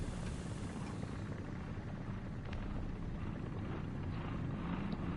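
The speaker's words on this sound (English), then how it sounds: "Friendly helo coming in." Helicopter passing overhead in the War Thunder combat game, a steady dense rumble that holds at even loudness throughout, with faint mechanical chatter but no clear voices.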